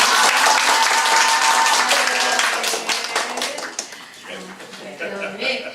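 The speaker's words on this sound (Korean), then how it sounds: "박수 부탁드립니다." A ceremonial gathering's audience claps for an introduced guest, loud and dense at first, then thinning into scattered claps as it fades and a voice speaks over the tail.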